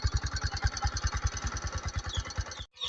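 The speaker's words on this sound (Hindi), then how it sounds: "हमारी जो बाइक है वो स्टार्ट हो चुकी है। अब आपको हम एग्जॉस्ट सुनाने वाले हैं।" Bajaj Discover 100M motorcycle idling close up, its exhaust giving a steady, fast train of low thumping pulses that cuts out briefly near the end.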